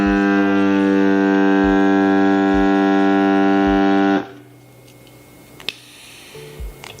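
Grabo vacuum pump running during a test, a steady loud electric hum with strong harmonic drone and faint rhythmic thumps, cutting off abruptly partway, followed by quiet handling clicks.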